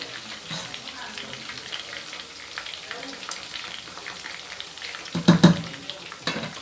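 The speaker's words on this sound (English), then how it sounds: "I'm going to add some bay leaves inside the pot now, and I'm going to stir." Fish fries in a tomato stew pot with bay leaves while it is stirred, making a continuous crackling sizzle with a few louder clanks and scrapes of the spoon near the end.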